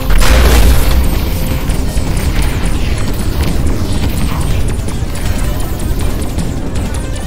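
Bombs in the Voltron VR video game blow up in loud, heavy booms that stack into a dense, continuous rumble, with a stronger blast at the start and no talking.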